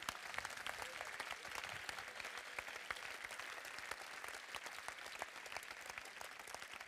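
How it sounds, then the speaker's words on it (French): Audience applause fills a hall at the Bocuse d'Or France 2023 award ceremony, a continuous, fairly quiet patter of many hands clapping at an even level. "Félicitations, on peut les applaudir."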